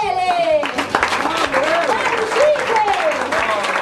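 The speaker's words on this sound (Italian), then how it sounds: "Facciamo un applauso a Cesare Emanuele!" Brief burst of audience applause with cheering in an Italian comedy show setting, loud and close, with voices and music-like tones running over the clapping.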